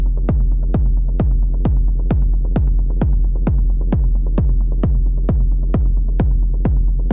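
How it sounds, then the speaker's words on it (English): A techno rumble kick from a tiny Eurorack synth pounds in a steady, loud pulse of about sixteen deep thumps, each leaving a low droning rumble tail, with no talking. "That's already very nice sounding rumble to me."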